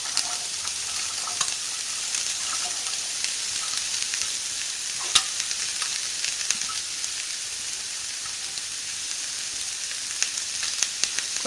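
Egg fried rice with chopped carrots and beans being stir-fried in a pan over low flame: a steady, close sizzle runs throughout, with light scraping and clicking from stirring and no talking.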